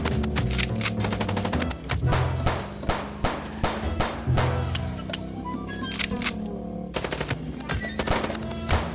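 Rapid gunfire aimed at a car's tires in the video game Chicken Police, with dense bursts of sharp shots and a few more spaced single cracks over a rumbling engine-like drone.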